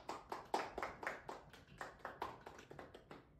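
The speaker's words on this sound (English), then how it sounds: "Let's give a big round of applause to everyone who ran this year." Applause for student council candidates at a school broadcast, a small group clapping in quick irregular bursts that stay soft and close and trail off toward the end.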